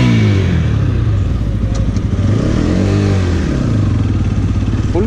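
Steady, throaty idle of a Bajaj Pulsar NS200 BS6 motorcycle engine, close and loud, with a continuous low rumble and a slight swell in revs around the middle.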